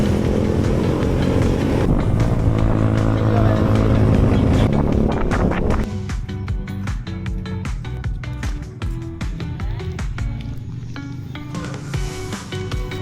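A rented motorcycle engine runs loud and close on a road in Leyte, Philippines, a steady droning roar that drops to a lower, rougher rumble partway through.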